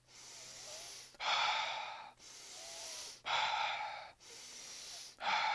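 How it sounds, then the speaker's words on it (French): Deep rhythmic breathing exercise, close and loud, alternating long sharp inhalations with slower drawn-out exhalations in a continuous wave with no pauses, about five breaths in a row and no talking. "une respiration, ça va donner ça."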